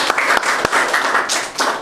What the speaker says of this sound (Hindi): उस परमेश्वर का हम जोरदार तालियों से स्वागत करते हैं।